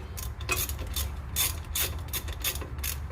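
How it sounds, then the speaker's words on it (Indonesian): A 14 mm ratchet working a wheel bolt, making rapid close clicking in quick repeated strokes over a low background hum. "Saya punya ini ratchet 14 mm."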